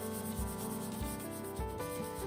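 Cloth wipes ink off a collagraph intaglio printing plate in close, repeated rubbing strokes, a soft rhythmic scrubbing with a regular back-and-forth pulse.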